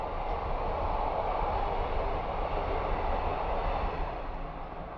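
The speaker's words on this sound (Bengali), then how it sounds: "পেছন দিয়ে ট্রেন যাচ্ছে, এই আওয়াজটা কিন্তু হবেই" A train passing behind a shopper, a continuous low broadband rumble that holds steady and begins to fade toward the end, with no talk over it.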